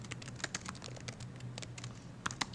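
Quiet, uneven typing on a computer keyboard, soft clicks in quick irregular bursts close to the microphone with no talking.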